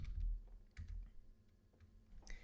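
Several quick, light keystrokes on a computer keyboard as a name is typed in, soft clicks in a short irregular burst with a faint clack near the end, heard close and alone.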